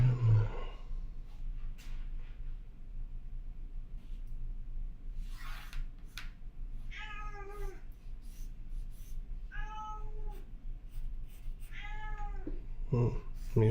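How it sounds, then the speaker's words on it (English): A cat meows three times in drawn-out calls spaced a few seconds apart, against a quiet room hum with a few soft clicks. "Meow, meow, meow."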